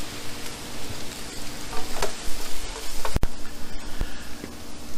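Shrimp etouffee cooking down in a pot, a close steady sizzle and crackle with light stirring scrapes and one sharp knock partway through.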